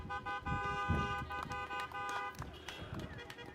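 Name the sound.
car horns honking at a drive-by graduation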